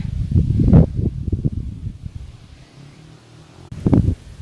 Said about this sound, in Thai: ลมลมแรงค่ะ ลมมันแรงนะคะ